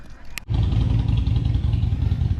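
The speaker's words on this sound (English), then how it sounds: "I don't know if you can hear that Harley engine, but it's so distinctive." A Harley-Davidson motorcycle engine rumbles loud and close with a deep, steady throb. It follows a brief rattling tick at the start and holds unbroken to the end, with no talk over it.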